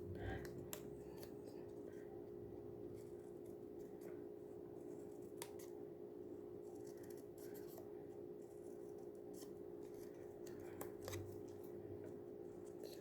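Scissors fussy cutting paper around a stamped design for card making, heard as sparse, close snips and paper rustles over a steady background hum.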